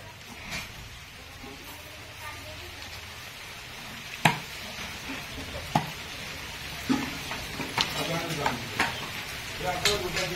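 Big raindrops begin falling at the start of a rain shower outdoors, landing as scattered sharp taps over a soft hiss that grows more frequent and irregular.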